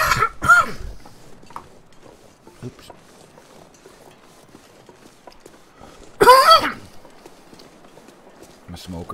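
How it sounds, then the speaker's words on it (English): A smoker gives two loud, harsh coughs, one at the start and another a few seconds later, with quiet rustling and faint movement in between. "I'm a smoker, so. Bad cough."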